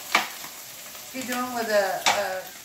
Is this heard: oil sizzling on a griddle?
yes